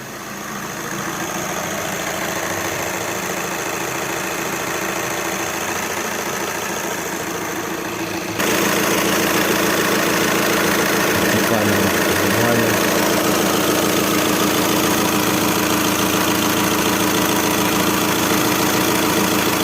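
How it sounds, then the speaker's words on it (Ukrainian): A 2013 Skoda Superb 2.0 TDI diesel engine idles steadily while warming up, a low, even rumble that grows slightly louder partway through, running continuously without a break. "Автомобіль заведено, погрівається."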